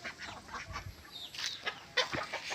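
Black Australorp laying hens in a backyard flock, soft clucks and fowl calls close by amid faint background noise over a couple of seconds.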